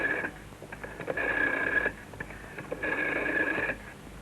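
A home telephone rings in two long bursts with a quiet gap between them, bright and steady, fairly clear against faint background hiss.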